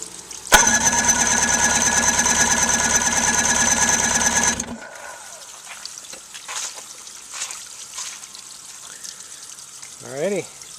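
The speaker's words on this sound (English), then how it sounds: "And I'm going to crank this thing over." An outboard motor cranks over on its starter during a compression test, a loud, steady, rapid whirring and chugging for about four seconds that then stops abruptly, leaving quiet room noise with a few faint sounds afterward.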